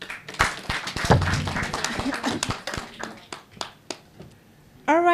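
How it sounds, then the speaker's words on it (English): Audience clapping for the winners at a youth program event, a loose burst of applause with scattered claps tapering off over several seconds, with voices mixed in. "Good, let's clap for them."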